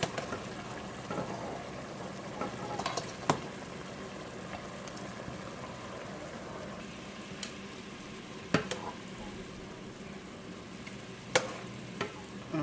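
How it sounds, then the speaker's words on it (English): Fish frying in a pan of oil, a soft continuous sizzle and crackle close by, broken by several sharp clinks and taps of a utensil against the pan. "So I'll go ahead and bring the fish out, and I'll fry the fish."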